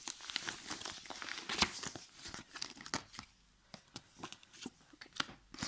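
Papery riffling and soft slapping as a deck of tarot cards is shuffled nearby, in quick irregular bursts with brief pauses.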